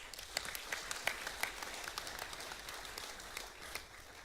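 Audience applauding honor graduates at a senior awards night, a steady patter of many hands clapping with sharp individual claps standing out, moderately distant and sustained for the whole stretch, with no talking.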